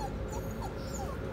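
A dog whimpers softly, with faint, thin whines rising briefly over a low steady background. There is no talking.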